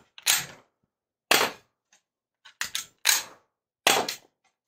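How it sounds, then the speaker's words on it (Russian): Five sharp snapping shots from a metal spring-powered airsoft Tokarev TT pistol, fired one at a time at irregular intervals, close and fairly loud with a little mechanical clatter after each, and no talking. "давайте покажу, как он стреляет"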